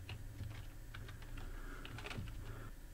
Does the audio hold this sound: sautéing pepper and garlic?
no